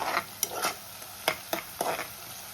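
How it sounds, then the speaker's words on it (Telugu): Onions frying in hot oil for a simple mutton curry, stirred toward golden brown: a close, steady sizzle broken by several sharp scraping bursts from stirring, with no talking. "ఇప్పుడు కొన్ని ఆనియన్స్ వేసుకొని ఫ్రై చేసుకుందాం"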